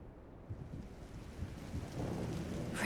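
Rain and rumbling thunder in a stormy scene from the video game Trails in the Sky, a steady low wash of rainfall with a deep roll building toward the end, with no voices.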